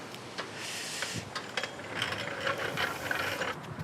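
A torque wrench ratchets as it tightens lug nuts on semi truck dual wheels fitted to an old Chevy dually pickup, giving repeated close clicking strokes with brief pauses between them and no talk.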